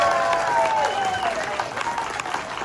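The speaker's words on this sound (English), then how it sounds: "So let's give them a round of applause." Theatre audience at a renovation panel clapping for the construction team, with dense applause mixed with voices and calls over it throughout.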